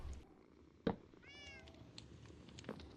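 A cat in the video game Minecraft gives a single clear meow, close and moderately loud, over a low ambient background with a brief thump just before it.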